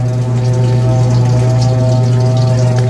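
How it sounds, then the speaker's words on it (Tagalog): Water runs into an automatic washing machine that is being repaired for a weak water supply, heard as a loud, steady humming drone with a constant low tone and flowing hiss, unbroken throughout. "Yan, tumulo na yung tubig niya."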